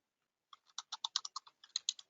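Quiet, close computer keyboard typing: a quick run of about a dozen crisp key clicks in an uneven rhythm, heard alone with no talking.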